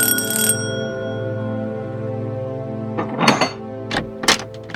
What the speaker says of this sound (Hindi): घंटी बजी है, देखें।